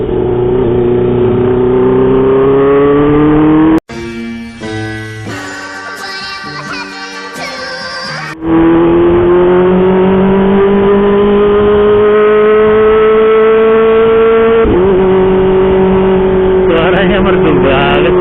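A Kawasaki ZX25R with a loud aftermarket exhaust revs close up, holding a sustained high-pitched wail that rises and falls, broken midway by a few seconds of music before the engine returns.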